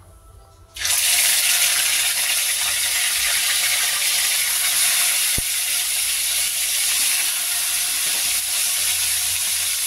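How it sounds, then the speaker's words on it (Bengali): Whole fish drop into hot mustard oil and fry with a loud, dense, continuous sizzle that starts abruptly and holds steady, with one sharp click partway through. "এই মাছগুলো এবার একে একে ভাজি।"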